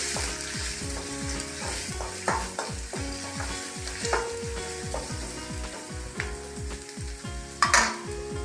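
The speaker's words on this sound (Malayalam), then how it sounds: "കട്ട് ചെയ്തു വച്ചിരിക്കുന്ന ഇൻഗ്രീഡിയൻസ് ഈ എണ്ണയിലേക്ക് ഇടുക." Chopped ingredients and curry leaves sizzle loudly in hot oil for a fish curry, with steady crackling and occasional stirring scrapes throughout.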